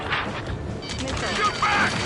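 Rapid gunfire bursts from the Ace Combat 7 video game, crackling and mixed with shouted voices that run over the shots throughout.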